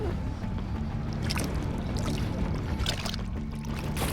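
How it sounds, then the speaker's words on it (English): A boat engine is revved in neutral to scare off a shark, a loud churning rumble with water splashing and sloshing, steady and close throughout. "put it in neutral and gas it. Yeah, make some noise sometimes."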